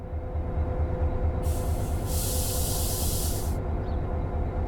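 Air brakes hiss loudly on a Metrolink MP36PH locomotive during a brake test in Train Sim World 5, a sharp release burst lasting about two seconds over a steady low engine drone.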